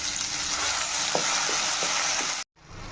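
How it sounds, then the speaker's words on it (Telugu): Masala paste of ground garam masala spices frying in hot oil for a tamarind fish curry, with a steady dense sizzle throughout and a few soft stirring knocks, cut off abruptly near the end. "హీట్ అయిన తర్వాత మనం మిక్సీ పట్టుకున్న గరం మసాలా మసాలా ముద్దను కూడా వేసేసుకుని బాగా వేపుకోవాలండి"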